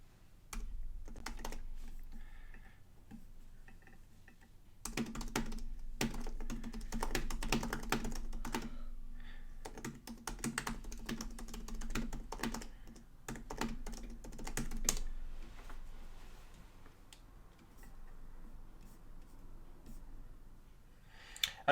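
Typing on a computer keyboard to enter a prompt into ChatGPT, a quick stream of close key clicks that comes in bursts with short pauses and a steady low hum underneath.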